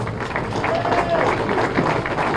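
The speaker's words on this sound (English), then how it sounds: "Clapping for Lisa." An audience at a martial arts history museum awards ceremony claps for an honoree, a dense, steady patter of many hands with a murmur of crowd noise running through the whole stretch.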